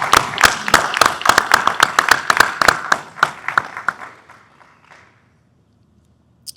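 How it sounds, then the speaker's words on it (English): An audience at a city commission meeting applauds with brisk, overlapping claps that gradually thin out and fade to silence, ending with one faint sharp tap. "Let's give a round of applause for all of the people who've reached."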